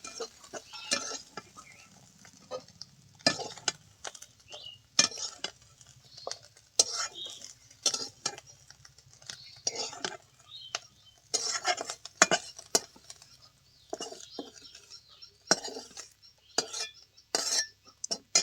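Utensils clink and scrape in a pan as lightly fried prawns are lifted out, a run of sharp metallic taps and scrapes at close range over a faint low hiss.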